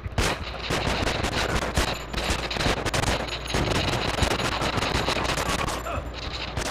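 Rapid automatic gunfire in a video game, dense bursts of shots firing almost continuously, loud and close.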